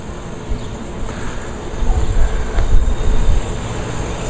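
A new 2013 Westinghouse high-efficiency outdoor air conditioner unit runs with a steady, broad whooshing hum heard from a short distance, the low rumble swelling slightly midway, alone without talk.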